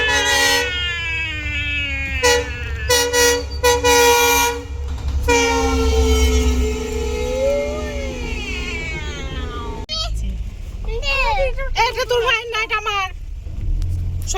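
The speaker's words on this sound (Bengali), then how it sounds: "রেলগেট পড়ে গেছে, এখন ট্রেন যাবে" A train rolls through a railway level crossing in Assam near the Brahmaputra, its steady low rumble running throughout, with loud, rapid horn-like tonal bursts and squeals layered on top and a shift in character partway through.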